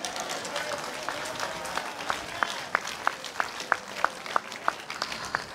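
A church congregation applauding the Lord during a 40th celebration day service, with distant clapping that settles into a steady rhythmic beat of sharp claps, fairly faint in a reverberant hall.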